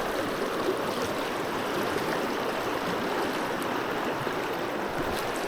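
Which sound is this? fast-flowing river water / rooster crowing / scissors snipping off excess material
fast-flowing river water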